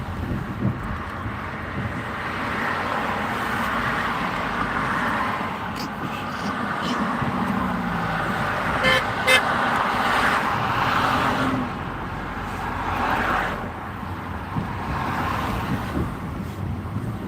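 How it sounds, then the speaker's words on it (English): Cars drive off along a road outside a gas station, with a steady loud engine and road rumble under wind noise on the microphone while people talk nearby. "Why would all 3 cars just drive off like that?"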